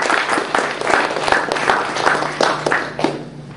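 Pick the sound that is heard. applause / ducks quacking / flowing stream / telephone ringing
applause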